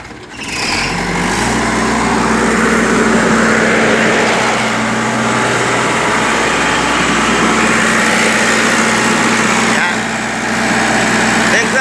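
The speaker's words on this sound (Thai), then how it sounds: "ให้ดูในรอบจะเร่งเครื่องนะครับ" Komatsu PC100 backhoe diesel engine, under repair for lost power, revs up and holds a steady loud drone with rising pitch, running continuously close by.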